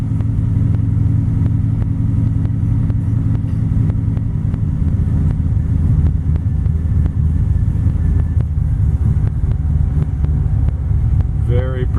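A 1955 Chevrolet 210 with a 427 engine rumbles steadily as it drives along, a low continuous drone with faint road noise throughout.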